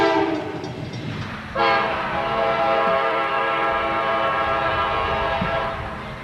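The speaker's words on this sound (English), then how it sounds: "They come equipped with Nathan K5LA air horns." A powerful multi-tone Nathan K5LA locomotive air horn on an Amtrak GE P32-8BWH blasts and holds steadily, loud and close, over the rumble of a passing train.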